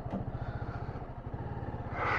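A motorcycle engine idles close by at the start of a morning road trip to Nainital, a steady low rhythmic thumping that swells briefly louder near the end.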